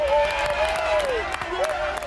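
Accused players applaud a lawyer's arrival on a reaction game show: steady crowd clapping with cheering throughout, under a loud overlaid whistle-like tone and talk.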